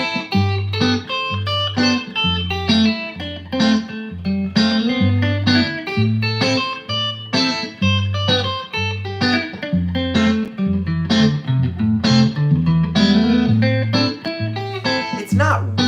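Electric guitar noodles through a wandering run of single notes over a repeating low bass pattern, plucked steadily and close without clear melodic direction.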